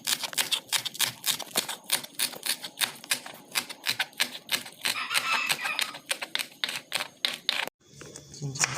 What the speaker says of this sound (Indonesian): Cincang juga bawang merahnya.